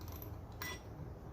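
Pull start recoil being drawn out on a Moto 4 quad during a rebuild, a faint brief ratcheting, clicking mechanical whir up close with a quick scrape partway through.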